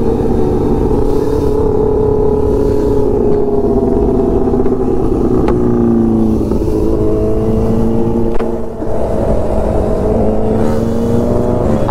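A sport motorcycle is ridden hard on a road, its engine revving loud and near with rising and falling pitch as gears change, and a continuous roar throughout with no speech.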